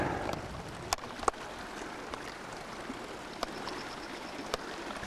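Creek water flows softly at the Upper Clicks Creek trail crossing, a faint steady trickle with a few sharp clicks and knocks over it.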